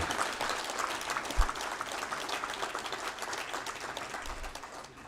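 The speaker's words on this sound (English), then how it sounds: "Let's have a big round of applause, ladies and gentlemen." Audience at a Civil 20 India 2023 conclave valedictory event gives a sustained round of applause, a dense patter of clapping that stays moderately loud and fades slightly at the end.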